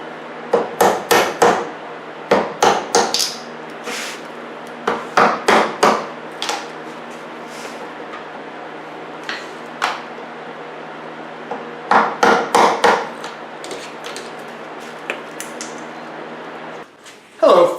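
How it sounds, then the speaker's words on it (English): Chisel paring and tapping at the wood of a live edge coffee table, bursts of sharp knocks in quick clusters of three to five, fairly close, separated by quiet stretches with a low steady hum underneath. "And we clean up the rest with a chisel."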